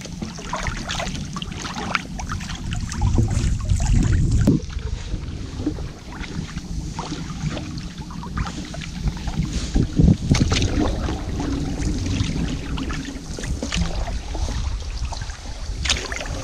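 A canoe is paddled on a wilderness lake trip, with repeated close strokes and water swishing under steady wind buffeting the microphone and no talk.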